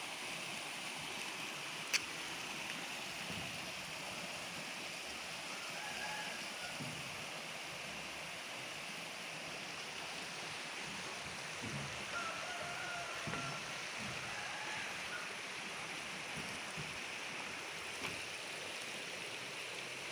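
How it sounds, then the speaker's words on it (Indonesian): The Cianten river flows in a faint, continuous watery hiss heard from a distance, with occasional soft splashes and faint distant sounds over a steady background. "Inilah aliran sungai Cianten ya, seperti itu."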